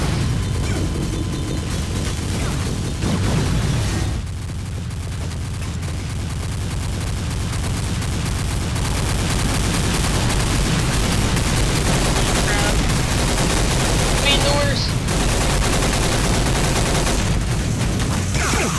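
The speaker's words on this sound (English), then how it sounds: "Oh god, the monolith does shoot from the sky." Sky-borne shooting from the Monolith boss during a multiplayer boss event in a video game, with steady heavy gunfire and booming bursts throughout the clip under a loud, dense battle mix.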